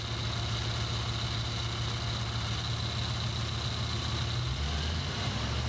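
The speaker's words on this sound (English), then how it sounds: "Now, watch as I step on the throttle." A Ford Bronco engine runs with a steady, loud, droning hum that shifts in pitch near the end.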